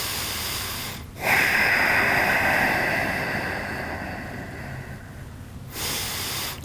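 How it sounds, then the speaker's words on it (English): Deep, slow breathing during a yoga exercise for tight hips, heard as close, breathy exhales and inhales that swell and fade, with two long breaths separated by short pauses. "try to breathe deeply"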